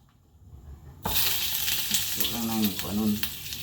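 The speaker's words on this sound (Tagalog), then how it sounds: "Mantikaan na to gamay guys. Tapos lagyan natin ng butter." Crab dropped into hot butter and oil in a pan, starting with a sudden loud sizzle that continues close and steady, with some stirring and scraping noises.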